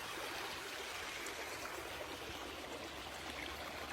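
Steady, close flow of water pouring into a farm pond that is filling back up, a dense unbroken rush without speech.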